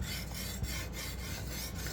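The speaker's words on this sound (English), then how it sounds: "Trying to sharpen evenly here and just get everything taken care of." A Zwilling Kramer Damascus chef's knife is sharpened by hand on a wet PDTools Silver CBN stone, giving a steady close rasping scrape with faint rhythmic strokes throughout.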